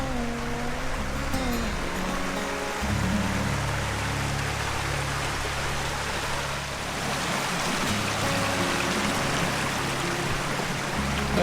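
Brown Creek flows with a steady, close rushing and trickling of water that is loud and continuous throughout, alone with no talk.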